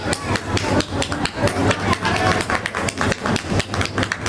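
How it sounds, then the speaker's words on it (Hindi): Audience applause at a creator meetup in Kichha, Uttarakhand, loud irregular clapping with sharp claps standing out, mixed with voices speaking over it. "जोरदार तालियां।"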